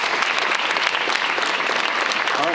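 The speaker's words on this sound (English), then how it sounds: "Let's give another round of applause for Madison." Audience at a high school National Signing Day ceremony applauding, a dense continuous round of clapping filling the whole clip at steady loudness.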